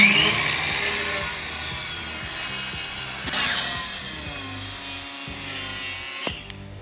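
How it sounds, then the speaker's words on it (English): A hand saw cuts through a piece of maple with steady rasping back-and-forth strokes, close and clear, the rhythm pausing briefly and then finishing with a sharp final stroke, no speech. "we're going to cut one more piece of maple down to the exact same size"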